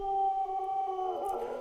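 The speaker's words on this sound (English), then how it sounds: "So we're going to hit play, and we should hear the dog bark." A recorded dog's bark played back through software comes out as one sustained, tonal howl-like call, fairly clean and alone with no talk over it.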